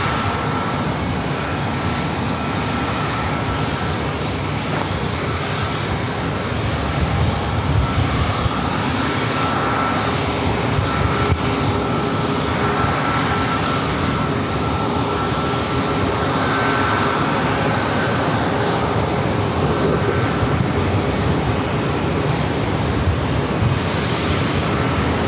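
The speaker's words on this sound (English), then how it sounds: "American Airlines flight 2122 heading back to Phoenix, A321 heading over to 27." American Airlines Airbus A321 jet taxiing toward runway 27 at San Diego airport, a continuous loud engine drone with low rumble, steady throughout with no talking.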